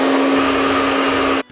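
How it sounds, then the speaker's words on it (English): A hair dryer blows steadily on curly hair, a loud close whine with a constant pitched hum that cuts off abruptly at the end. "I'll just blow dry the tips"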